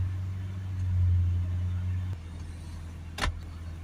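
A Vauxhall Vivaro 1.6 van engine with inlet air and particle filter faults hums at low revs around 2,500, then drops to a quieter idle partway through, followed by a brief click or rattle.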